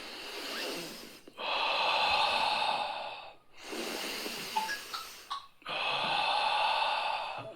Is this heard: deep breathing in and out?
yes